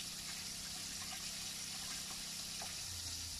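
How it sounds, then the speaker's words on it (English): A kitchen tap runs in a steady, even stream as flour is washed off hands, a close and continuous gush of water. "Just going to wash my hands."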